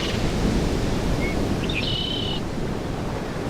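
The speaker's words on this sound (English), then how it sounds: "hearing the waves with the birds chirping" On a Call of Duty: World at War map, ocean surf rolls in a low, steady wash, and a few short bird chirps rise above it near the middle.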